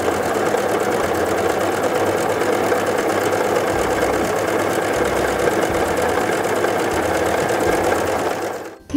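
A Brother CV3550 coverstitch machine sews a wide cover stitch with left and right needles and looper thread, its steady, fast mechanical hum running unbroken for nearly nine seconds before it cuts off abruptly.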